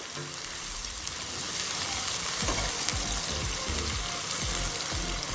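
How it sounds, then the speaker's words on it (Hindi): Onions brown in reserved oil for Pakistani-style beef nihari, a dense, loud, continuous sizzle with crackling pops and occasional stirring scrapes, close up. "जो ऑयल हमने बचा के रखा था उसमें हम प्याज ब्राउन कर रहे हैं।"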